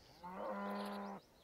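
Cow mooing in a video game as it is slapped by bare hands, one sustained low drawn-out moo lasting about a second, clear and alone.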